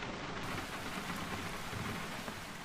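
Torrential rain pours down in a valley in a dense, steady roar with low rumbling thunder underneath, loud and continuous throughout.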